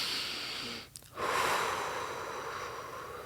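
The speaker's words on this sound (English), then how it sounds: "literally take a deep breath right now." One slow, deep breath, quiet and close, drawn in after a brief pause and then let out under a steady background hiss.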